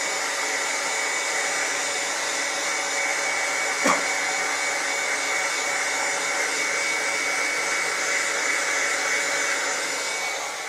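A hot air rework gun blows steadily while warming a stepper driver IC on a circuit board, a constant close hiss-whoosh with fan whine and a single faint click partway through.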